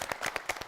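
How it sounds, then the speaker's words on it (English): A few scattered hand claps at a quiz show, quiet and uneven, with gaps between the strikes. "Okay, give her a round of applause."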